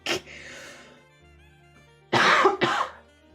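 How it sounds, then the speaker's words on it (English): A sick woman gives a sharp cough, then after a quiet stretch two loud, harsh coughs in quick succession, close and unaccompanied by speech. "I will cough away from the mic."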